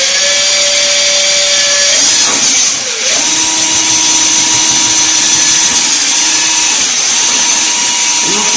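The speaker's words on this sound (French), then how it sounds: "c'est une scie que je viens d'acheter, que je n'ai pas encore utilisée" A newly bought power saw cuts a hole in a door for a cat flap. It drones loudly and steadily at close range, with its pitch shifting as the blade bites, and a brief dip partway through.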